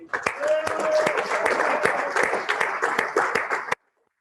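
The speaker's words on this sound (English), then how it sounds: "I'd like all the crowd listening to give a big round of applause for the Radisson Blu" Crowd clapping for the Radisson Blu Deira Dubai Creek hotel at a culinary salon, a steady patter of hands with sharp individual claps standing out, ending abruptly.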